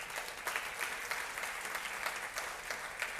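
Church congregation applauding during a sermon, a continuous wash of many hands clapping at an even pace, heard from a distance and fairly faint, with no voices over it.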